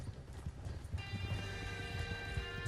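Horse hooves clip-clop at a steady walking rhythm in Red Dead Redemption 2, with a second horse following, under a faint musical drone and light ambient game sound.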